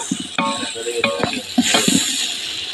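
A biryani masala base is being sautéed and stirred in a pot, giving a steady sizzle with intermittent spoon scrapes and clinks against the metal, close and fairly loud.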